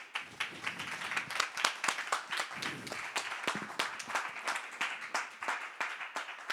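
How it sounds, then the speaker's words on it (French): A live audience applauds a speaker named Marguerite at the end of a talk: steady, close clapping from many hands for several seconds, with no speech over it. "je pense qu'on peut l'applaudir"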